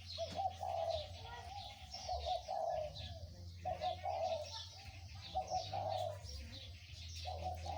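Soft, repeated cooing from a decoy dove in steady, medium-pitched phrases, with faint chirps and tweets from other birds in the background, moderately distant.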